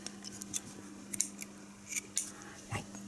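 Scissors snip thread for a small sewing project, several quiet, crisp metallic cuts spaced irregularly over a faint steady hum, close by and without talk.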